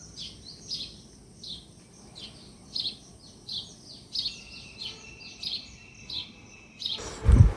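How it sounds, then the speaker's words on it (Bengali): Small birds flutter in a lemon tree in a village and repeat bright, evenly spaced chirps close by, with a thin high trill joining midway and a sudden knock at the end. "আর কি সুন্দর পাখির কিচিরমিচির ডাকাডাকি শোনা যাচ্ছে।"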